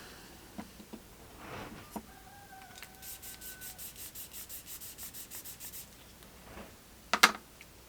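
Fine-grain side of a sanding block buffing a surface: a quiet run of about a dozen even, rhythmic rubbing strokes, framed by a few scattered scrapes and a sharp brief scratch near the end.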